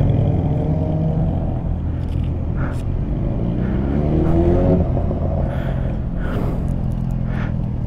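A Yamaha R6 motorcycle engine rumbles steadily and revs with rising pitch, a loud continuous drone heard up close throughout.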